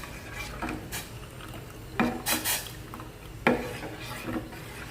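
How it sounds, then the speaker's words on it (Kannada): Chicken gravy stirred in a pot with a spoon, giving soft scraping and rubbing strokes with a few sharper clinks of utensil against metal, close and moderately loud, with no talking. "ಈಗ ಫುಲ್ ಮಿಕ್ಸ್ ಮಾಡ್ತಾ ಇದ್ದೀನಿ."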